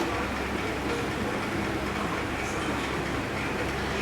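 A pot of Udupi-style moong dal lemon rasam boils with a steady, dense bubbling hiss, constant and close, with no voices over it.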